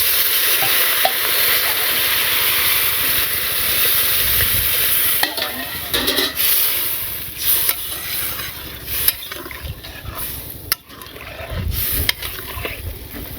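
Curry sizzles loudly in a village kitchen pan as broth is poured in and stirred, with a steady frying hiss giving way to scraping and clattering of the spoon against the pan, close and without talk.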